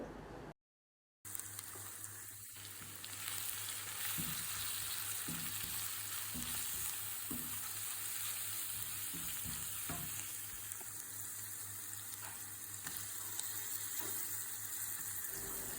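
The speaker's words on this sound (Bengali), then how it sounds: "দিয়ে ভালো করে পেঁয়াজের সাথে এগুলো কষিয়ে নেব" Onions frying in a pan with garlic paste, turmeric, chili and coriander powder for a small-fish curry hiss in a steady, loud sizzle. Intermittent scrapes of stirring sound over it.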